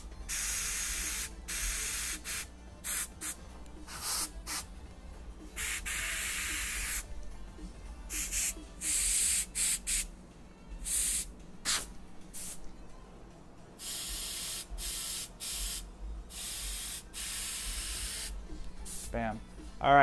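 Short bursts of spray paint hiss as dots are sprayed onto a Jeep dashboard, loud close pulses separated by brief pauses with occasional quiet clicks of the can.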